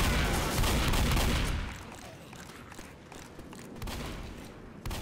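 Shotgun blasts in the zombie shooter Left 4 Dead, a dense burst of loud, overlapping booms at first, then thinner scattered shots and impacts, with faint talk underneath.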